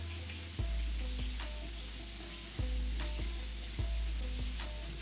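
Teriyaki burger sizzles steadily in a hot pan, a constant crackling hiss with a few soft clanks from stirring, no talking.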